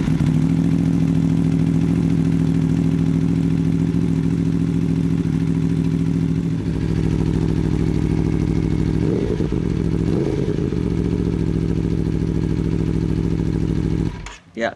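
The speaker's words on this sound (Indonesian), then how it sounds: "kita akan coba cek sound suara dari Tuono V4" Exhaust of an Aprilia Tuono V4 motorcycle, a steady loud V4 engine drone that runs almost unbroken for about fourteen seconds with brief rev changes midway before cutting off abruptly.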